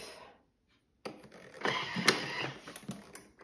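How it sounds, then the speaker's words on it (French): A Thermomix food processor blends leftover brioche and croissant at speed 9, starting abruptly after a short silence with a harsh, clattering whir that rises and churns for a few seconds, close and fairly loud. "Et on va mixer ça 10 secondes, vitesse 9."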